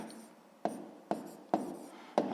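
A pen writes out a sixth-grade math solution with four sharp, evenly spaced strokes or taps over a soft scratching background, close and quiet, with no talking.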